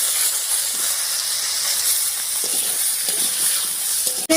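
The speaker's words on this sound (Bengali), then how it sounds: "ফোড়নটা ভাজা হয়ে গেলে এর উপরে কেটে রাখা আলুটা দেবো।" Potatoes fry in hot oil over a dried chili and whole cumin tempering, a loud continuous hiss and sizzle with occasional stirring scrapes and a sharp clatter right at the end.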